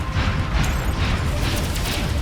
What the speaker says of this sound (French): je me recharge